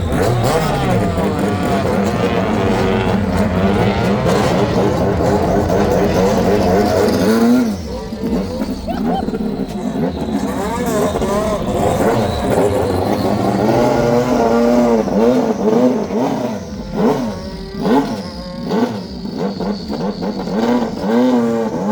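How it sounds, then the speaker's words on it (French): A Peugeot 306 Maxi rally car, a heavily tuned two-litre front-wheel-drive machine, drives hard with its engine roaring loud and close throughout, revs climbing and dropping through repeated gear changes with no break in the noise. "on va partir en baptême dans la 306 Maxi avec Cyril Després"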